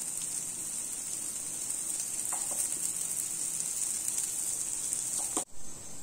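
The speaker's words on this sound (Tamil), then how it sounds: "எண்ணெயை கொஞ்சம் அப்படியே ஊற்றி விட்டுறலாம்" Adai dosa fries in oil on a pan with a loud, steady sizzle and crackle, and a few clicks near the end, when the hiss briefly drops away and then returns.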